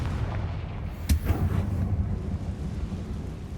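Confringo blasting spell going off in Hogwarts Legacy, a sharp explosive crack followed by a rumbling boom that tails off into low ambient game rumble, no talking.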